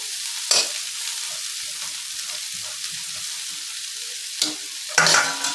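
Chopped banana flower stirred in a hot oiled pan with five-spice tempering, giving a continuous bright sizzle broken by a few louder scraping strokes of the spatula near the end.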